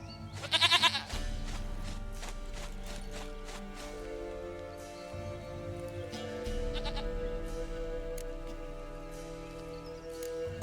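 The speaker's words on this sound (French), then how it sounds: "Une chèvre à moi, gentille, douce biquette." In The Witcher 3: Wild Hunt, a goat gives a short, loud, quavering bleat near the start, then calmer game ambience and music carry on with no speech.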